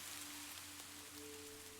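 Gentle rain tapping on a window pane, a very faint, continuous hiss of drops over a low steady hum, with no distinct individual taps standing out.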